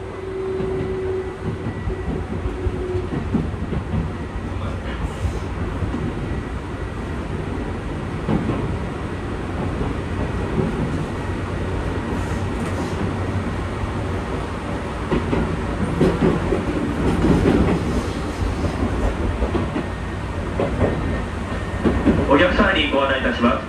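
A chartered Izukyu Line train between Izukyu-Shimoda and Izu-Kogen pulls away and runs steadily, with rumbling wheels and car noise rising toward the end, heard from onboard with announcements over it.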